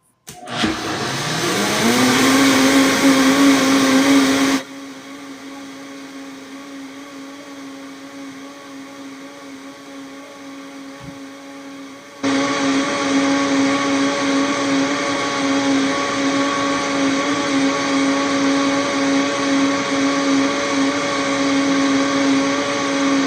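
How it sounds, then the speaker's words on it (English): A blender whirs through a moong dal vegan egg mixture, starting with a rising motor whine, running loud and steady, dropping to a lower hum midway, then surging back to full speed, close and alone. "Let's put this lid on here. And we blend."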